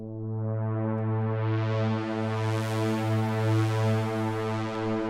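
A sustained, buzzy synth tone holds steady while a slow, smooth wobble sweeps its brightness up and down in gentle, rounded waves.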